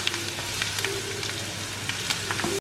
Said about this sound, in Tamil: அது ஃப்ரை ஆனோடனே இஞ்சி பூண்டு பேஸ்ட்டு போட்டு ஒரு 1 மினிட் வதக்கிடுவோம்